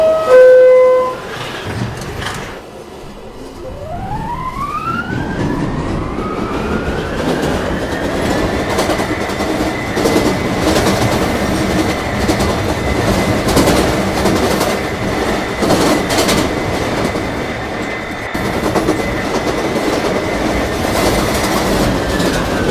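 A New York City subway train on the A, C and E lines, running R46 and R68 cars, departs from a station, its motor whine rising in pitch and settling into a steady hum over loud rolling rumble and wheel clatter.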